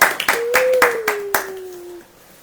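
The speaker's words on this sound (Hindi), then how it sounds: "ताली नहीं बजेगी क्या?" A congregation at a Christian sermon gathering claps in a quick, steady rhythm of about six sharp handclaps, close and fairly loud, with a thin sustained whistling tone running beneath.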